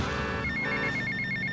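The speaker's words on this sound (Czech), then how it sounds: "Telefon." Telephone ringing in GTA Vice City, a short warbling electronic ring pulsing rapidly, close and clear over a low game background.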